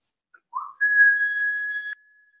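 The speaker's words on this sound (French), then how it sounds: "Rentre le ventre pour siffler." A soft breath followed by a clear, steady whistled exhale during a yoga breathing exercise, holding one pitch for about a second, close and alone.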